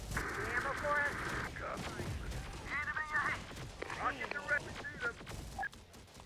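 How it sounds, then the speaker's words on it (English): Rapid gunfire in the combat video game Terminator Dark Defiance, with dense overlapping bursts and shots running almost continuously under game voices and battle chatter. "There's something over there firing."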